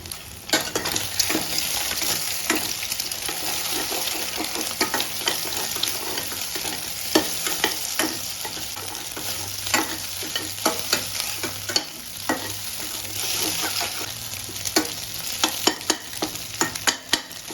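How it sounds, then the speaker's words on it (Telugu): Pepper eggs frying in a pan, stirred steadily with frequent spoon scrapes and clicks over a continuous close sizzle, loud and even throughout with no talking. "30 seconds అలా ఉంచేసి తర్వాత అయితే మనము బాగా కలబెట్టాలి"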